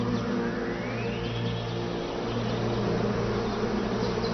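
A swarm of bees buzzes in a dense, continuous drone, loud and close, with a steady hum and occasional rising whines as individual bees pass by.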